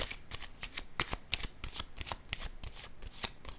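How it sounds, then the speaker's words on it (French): A tarot card is set down on a table during a reading, heard as a quick run of soft, close papery flicks and taps against a quiet background. "Je vais déposer une autre carte."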